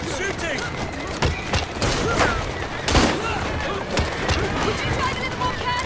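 Gunfire in the video game Assassin's Creed Syndicate: repeated sharp shots and cracks scattered through a busy, loud mix of game noise, with people talking.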